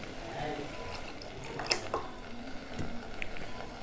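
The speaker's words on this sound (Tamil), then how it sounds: "தகுந்த அளவு தண்ணி ஊற்றிக்கலாம்" Water is poured into a pot of brinjal kara kuzhambu with tamarind extract and turmeric, a gurgling, splashing trickle with a few louder sloshes over a few seconds.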